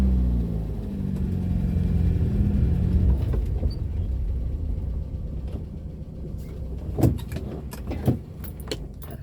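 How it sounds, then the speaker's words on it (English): A car engine rumbles low as the car is moved forward, then fades back while a few sharp clicks and rattles sound near the end; no talking. "I'll just move the car forward."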